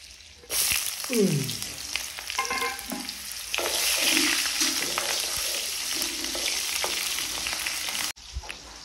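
Eel fish sizzling and frying in hot oil in a wok, a loud steady crackling hiss that starts abruptly, with clinks of stirring and a short break near the end.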